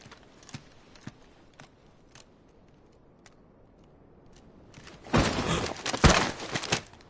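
Sparse hoof clops on hard ground from a horse in Final Fantasy XVI, faint and spaced at first, then louder, busier clattering near the end.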